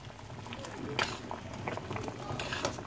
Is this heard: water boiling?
yes